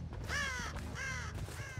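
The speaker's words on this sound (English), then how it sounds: "No, not you, Crow." A crow caws in a video game, three harsh raspy calls in quick succession, clear and fairly close with nothing else over them.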